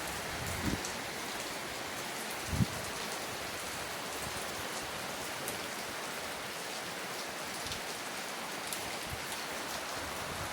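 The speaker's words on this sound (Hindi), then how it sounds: "बारिश बहुत तेज हो गई है" Heavy rain pours down in a steady, dense hiss, with occasional louder drops hitting a nearby surface.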